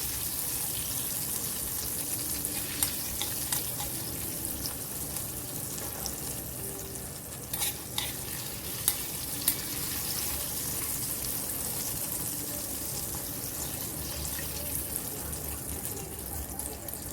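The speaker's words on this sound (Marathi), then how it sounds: "आता आपला तडका झालेला आहे" Tempering for sambar spits and sizzles in a kadhai, a soft continuous hiss of hot oil with scattered crackles and occasional clinks, fairly quiet and close.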